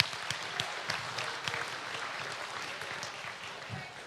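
Spectators at a state fair swine show clap for hog exhibitors, a moderate stretch of applause with distinct individual claps early that settles into a softer steady patter.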